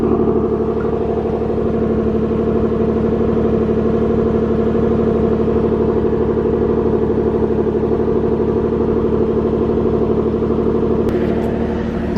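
A car with a recurring mechanical fault runs with its engine held at a steady, loud drone, the tone barely shifting as the accelerator is pressed, with no talk over it.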